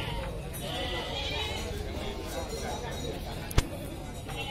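Goats at a crowded livestock market in Pasar Muning, Kediri, with faint bleats mixed into a dense murmur of voices and market bustle, and one sharp knock near the end.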